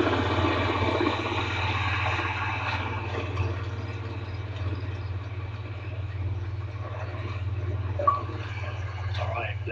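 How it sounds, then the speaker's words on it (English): Vehicle engines rumble low and steady in a Call of Duty 4 battlefield, a constant idling drone with faint clatter and a brief sharp knock near the end, no voices over it. "Sir, vehicles coming from the north"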